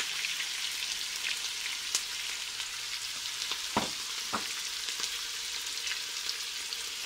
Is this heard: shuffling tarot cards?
no